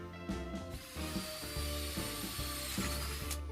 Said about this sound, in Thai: เดี๋ยวผมจะลองเจาะให้เพื่อนๆดูอีกสักรูหนึ่งนะครับ